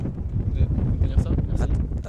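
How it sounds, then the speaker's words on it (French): Wind buffets a microphone with low rumbling gusts, while a voice talks faintly underneath. "il y a un petit peu de vent."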